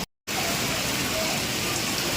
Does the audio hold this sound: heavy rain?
yes